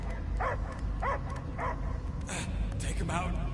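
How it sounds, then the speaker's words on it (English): A dog barks in Marvel's Guardians of the Galaxy video game, a series of close, evenly spaced barks and yips over a low rumbling game ambience. "I hear only barking."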